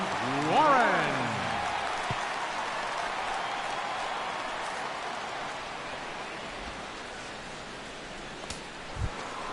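Steady hiss of rain falling over a baseball ballpark in MLB The Show 16, a continuous wash of noise from start to finish, with a short voice near the beginning and a few faint knocks toward the end.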